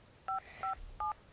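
Three short, evenly spaced tones sound as a phone dials a group call in the Avatar World video game. The tones are clean and fairly faint, with no talk over them.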